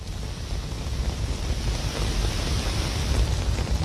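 Heavy rain pouring down in Delhi, a dense steady hiss of falling water with a low rumble underneath, continuous and fairly loud with no voices.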